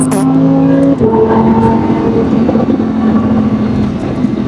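A fast car being driven, heard from inside as a steady engine and road drone with a low tonal hum and a shift in pitch about a second in, with no talk.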